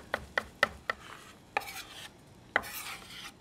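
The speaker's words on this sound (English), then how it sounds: "So we're gonna just chop it up a little bit more so it fits in that ravioli" A chef chops cooked ravioli filling on a cutting board with a knife. Six crisp, close knife strikes land in a quick run of four, then two spaced hits, with nothing else in the background.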